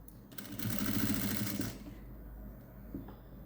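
A sewing machine stitches an old silk saree being made into a long gown, running in one quick rattling burst of about a second and a half, then winding down to a quiet hum, close and soft.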